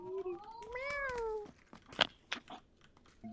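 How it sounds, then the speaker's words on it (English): A small kitten gives two clear rising meows close by, followed by softer clicks, chewing-like crunches and light movement noises. "My little baby cat. Look at the kitty cat."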